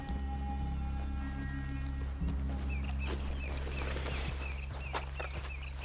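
Horses in the Red Dead Redemption 2 video game, hooves clip-clopping at a moderate distance over a steady low engine-like drone, with a faint snort or whinny and scattered footsteps.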